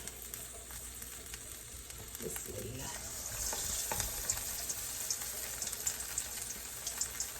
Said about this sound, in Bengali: দেখেন আমার তেল গরম হয়ে গেছে পুরা এখন আমি পেঁয়াজে ভাসতে চলে এলাম